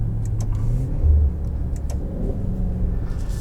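A 2020 Maserati Levante GTS engine and powertrain with ZF eight-speed transmission hums as a low, steady interior rumble with a slight swell of revs, heard from inside the cabin with no talking.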